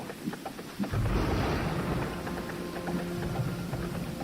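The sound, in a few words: thunder and heavy rain in a storm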